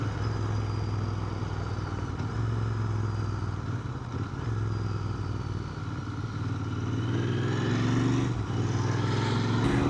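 A motorcycle fitted with Kenda K657 tyres rides along a road. Steady engine drone blends with road and wind noise, a constant close-up roar with slight rises in pitch toward the end and no speech.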